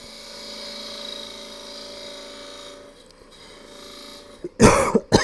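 A person coughs a few times in quick, loud bursts near the end, after a stretch of steady low mechanical hum indoors at a live maker event.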